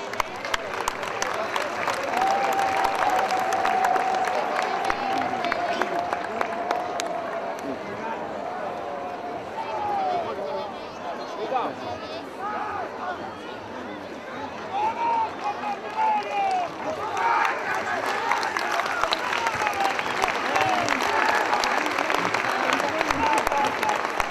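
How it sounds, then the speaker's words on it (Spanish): A crowd at an outdoor festival performance in Usicayos, Carabaya, applauds in a broad, continuous wash that swells and thins, with voices and cheering mixed through it. "Vengan los aplausos bien fuertes para ellos."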